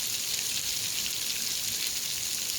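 Steady rain falling outdoors in a quiet mountain setting, a continuous bright hiss of drops with no pauses, moderately loud and heard alone.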